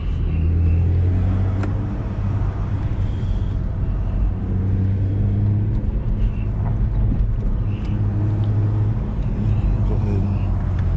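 An Infiniti G37 engine with exhaust cutouts rumbles low and loud throughout, its throaty exhaust drone rising and falling slightly as it revs.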